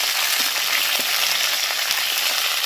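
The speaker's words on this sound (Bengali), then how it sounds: "ডাঁটা দেওয়ার পর আলুর সাথে একটু নেড়ে নেব, হালকা করে নেড়ে নেব, ভাজবো না কিন্তু।" Drumstick stalks and potatoes are stirred gently in a hot pan, with a dense, even sizzle and soft scraping of the spoon throughout, close and loud.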